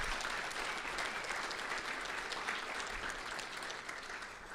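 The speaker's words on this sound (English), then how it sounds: "Give them a round of applause." Audience at an awards event gives a sustained round of applause, a full, even wash of clapping from many hands holding steady throughout, with no speech over it.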